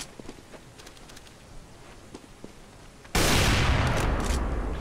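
Gunshots in Counter-Strike: Global Offensive on the Dust 2 map ring out as scattered sharp cracks, followed by a sudden loud, sustained blast of noise that fills the rest of the clip.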